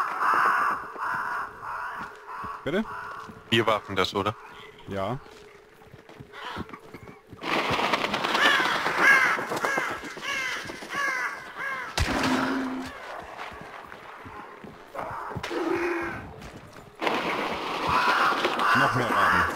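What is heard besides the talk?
crows cawing in the video game Hunt: Showdown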